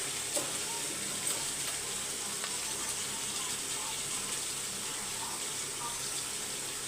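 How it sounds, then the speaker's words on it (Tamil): Onions and tomato frying in a pan: a soft, steady sizzle with occasional faint clicks and stirring taps, low and continuous in a quiet kitchen. "ஒரு எண்பது சதவீதம் வெங்காயம் வதங்கிடுச்சு தக்காளி சேர்த்துக்கலாம்"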